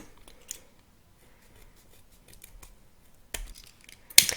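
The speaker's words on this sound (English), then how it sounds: "Trim the bottom of the petal." Scissors snip through fabric while trimming the bottom of a kanzashi flower petal, a few quiet cuts with a sharper, louder snip near the end.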